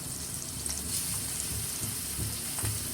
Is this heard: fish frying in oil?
yes